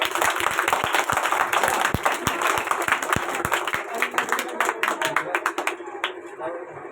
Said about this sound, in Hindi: इनके लिए आप लोग जोरदार ताली बजाइए एक बार